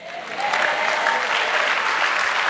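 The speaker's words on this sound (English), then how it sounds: "When they clap like so and stop" A church congregation at a Sunday service applauds, the clapping swelling quickly and holding as a dense, steady wash of many hands.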